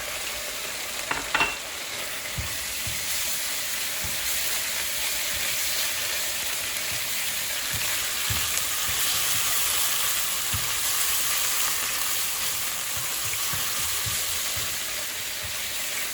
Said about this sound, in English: Here she's just continuing to fry the meat.